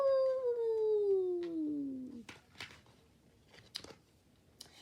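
A person imitates a dog howling at the moon with one long drawn-out howl that slides downward and fades, followed by a few soft scattered knocks and shuffles in a quiet room.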